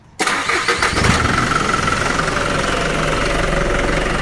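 A vehicle engine cranks and catches after brief quiet, then settles into a loud, steady close idle with a faint knock, no talking over it.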